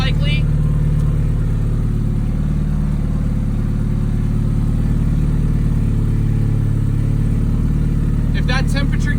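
A 700hp drift car engine idles loud and steady after sitting for three years, its low rumble constant throughout, with someone talking over it.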